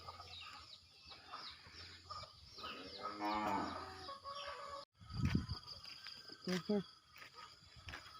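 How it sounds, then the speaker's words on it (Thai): Ducks and chickens on a farm, with clucking and a rooster call over a steady outdoor rural murmur, plus louder calls after a short break. A cow-like low call appears too, and a person speaks softly. "เป็นเป็ดกับไก่เนาะ"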